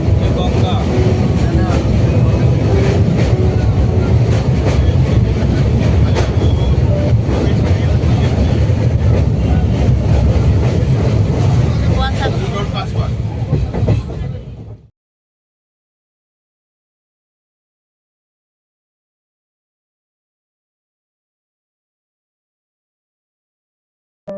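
A train pulls out of Sealdah station on a long journey, a loud steady rumble of wheels and carriage noise heard from inside, continuous for about fifteen seconds before cutting to silence.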